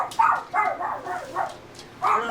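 A puppy barks and yips in a string of short, high, close barks, roughly five bursts with brief gaps between them.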